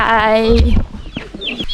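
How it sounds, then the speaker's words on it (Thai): Chickens with chicks cluck at a rest stop on Fansipan Mountain near Sapa, Vietnam, in a short, close burst of clucking, with people talking nearby. "มันมีไก่มีไข่ด้วย มีลูกจี๊ยบด้วย"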